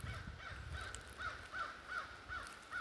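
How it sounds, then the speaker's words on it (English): A crow caws repeatedly outdoors on a walk home, a series of evenly spaced harsh calls that are fairly distant and faint over a quiet background, with no talking. "There was a crow calling"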